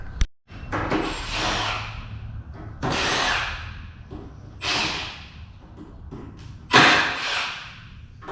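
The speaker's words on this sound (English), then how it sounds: "I'm gonna have to go grab my drill and get these out of here" A power drill whirs in several short bursts, each a few seconds long with pauses between, backing screws out at close range.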